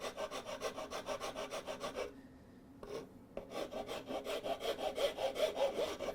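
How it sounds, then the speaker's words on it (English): Rasp or file smoothing a hand-carved wooden song stick before sanding, steady rhythmic back-and-forth rasping strokes up close, with a brief pause midway before the scraping resumes. "finer rasp or a coarser file, just to again smooth it and get it ready for sanding."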